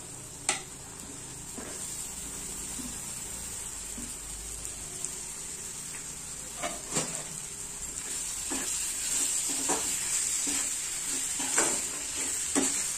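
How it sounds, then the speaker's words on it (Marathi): A spoon stirs a brinjal mixture with turmeric, cumin powder, salt and asafoetida in a frying pan, giving steady soft sizzling with repeated scraping strokes throughout, close and moderately quiet, with no talking. "टाकून व्यवस्थित आपल्याला हे सगळं मिक्स करून घ्यायचं आहे।"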